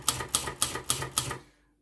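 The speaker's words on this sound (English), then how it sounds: "So every time we press a key," Keys striking on a Silver Reed manual typewriter, five crisp clacks in a quick, even rhythm, close up and alone, ending in silence.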